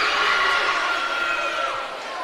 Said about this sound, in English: And their fans with something to cheer about for once